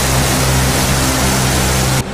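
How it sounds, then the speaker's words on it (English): A subsonic plane in a flight game, overspeeding and straining as it shakes: a steady, loud engine roar with a broad rushing wind noise and low droning tones, cutting off abruptly near the end. "Oh man, it's overspeeding. Oh, I'm shaking. The engine is not having a good time right now."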